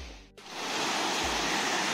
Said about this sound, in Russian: Смотрите, какой водопад.